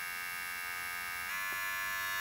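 Electric men's hair clipper humming steadily, then shifting midway up to its second speed setting with a slight change in pitch and a touch louder whine, close and alone.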